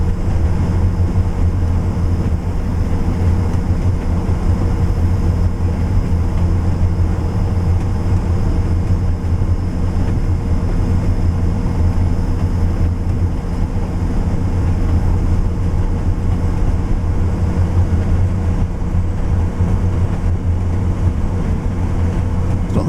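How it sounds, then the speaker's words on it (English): Train running in Train Sim World 4, a continuous loud low engine drone with steady rumble and faint high whine holding constant, no talk over it. "It's not the fastest train on planet Earth, is it?"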